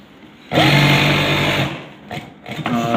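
A sewing machine stitches elastic into a trouser waistband, giving one steady, close whirring run of over a second, then a few shorter bursts of stitching.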